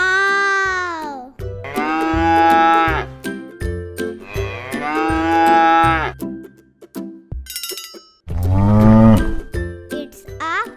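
Toy cow sounds: several loud, drawn-out moos over a steady bouncy children's music backing, with a short jingle between calls.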